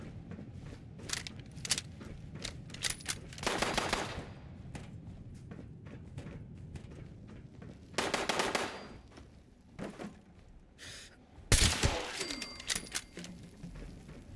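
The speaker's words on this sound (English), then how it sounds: "Stop shooting, he's shooting at something on the ceiling" Gunfire in Fallout 76 rattles out in several loud automatic bursts separated by gaps, with scattered single shots and game background noise between volleys.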